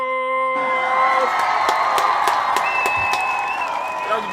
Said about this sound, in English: All the Coogee born, all the Coogee babies, a round of applause.